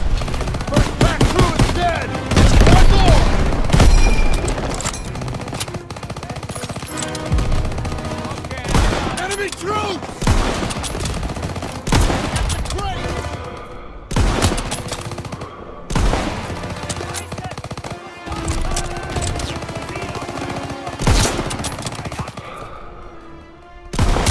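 Gunfire in a Battle of Normandy war game, heavy machine-gun bursts and rapid rifle shots rattling loud and close in dense volleys with brief pauses, under shouted voices.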